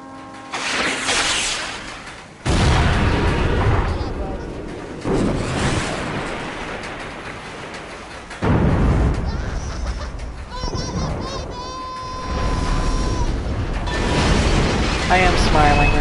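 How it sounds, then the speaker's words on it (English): In Borderlands 2, remotely triggered explosives blow up a train, producing several heavy booming blasts and rumbling crashes across the stretch, mixed with game effects and talking voices. "Just poke their buzz when you want me to set the explosives off."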